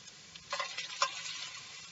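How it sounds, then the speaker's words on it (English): Peppery, garlicky bacon frying in a pan makes a faint, steady sizzle with a few light crackles and pops. No voices are heard over it. "I'll let his bacon start cooking"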